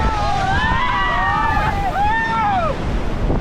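Rushing whitewater of a river rapid called Roller Coaster during rafting, a dense continuous roar with wind noise and voices shouting over it.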